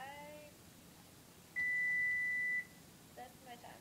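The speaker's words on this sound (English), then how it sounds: "that's my timer. Not the timer, the oven." Kitchen oven timer sounding one long, steady electronic tone for about a second, fairly loud against quiet room noise with faint sounds around it.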